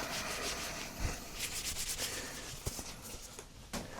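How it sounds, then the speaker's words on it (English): A cloth wipes the coolant pipe seal on a Jaguar engine during thermostat and water pump replacement, making close, soft, continuous rubbing with a few small knocks. "just give that seal a wipe"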